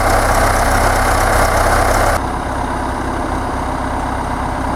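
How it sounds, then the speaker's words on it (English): A tractor fitted with a front loader idles with a loud, steady, rumbling engine drone. The level drops slightly partway through and then holds even with no one talking. "this front loader right here, if you're thinking about getting a tractor"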